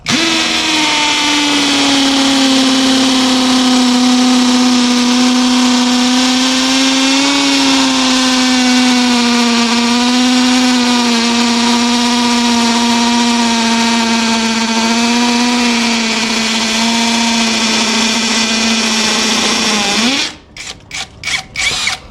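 A loud power drill whines steadily for about twenty seconds, its pitch wavering slightly as it bores, then cuts to a few sharp rattling bursts.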